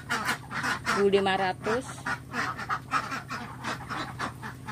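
Laying ducks on a village farm quack in a short cluster of nasal calls over rhythmic background noise, while someone speaks over them.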